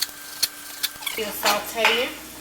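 Peppers in a pan for pepper steak with mushroom gravy, a few metallic clicks and scrapes of stirring followed by louder sizzling bursts as the pan is worked, brief and close.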